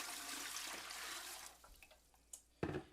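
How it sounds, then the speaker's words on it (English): Water poured into a pressure canner at home before canning leftover turkey, a steady splashing rush for about a second and a half that then tapers into scattered drips and clunks, with a sharp knock near the end. "I'm pouring the water"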